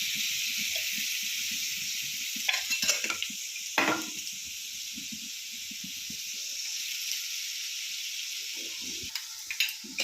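Chana dal cooks in a pan at home under a steady loud hiss of frying, with a few scraping and clinking stirs of the utensil against the pan.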